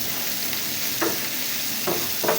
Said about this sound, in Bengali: এখন আমি ব্রাউন করে একটু ভেজে নেবো